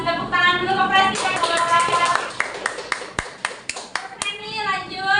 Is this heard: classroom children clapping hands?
yes